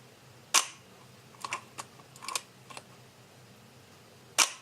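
A 1946 Leica IIIc screw-mount rangefinder fires its shutter twice with sharp, crisp clicks, and a series of softer mechanical clicks from winding and handling falls between them in a quiet room.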